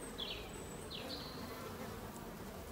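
Honeybees in an open hive during an inspection, a close steady buzzing drone with a few brief higher whines as individual bees fly by.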